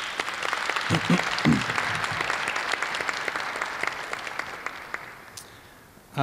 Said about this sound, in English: So let's give Carla a round of applause.